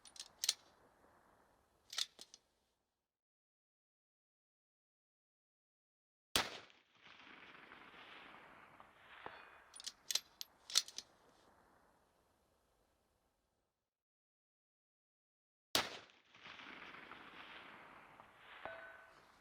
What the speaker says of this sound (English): let me show you shots number 1, 2, and 3 at 706 yards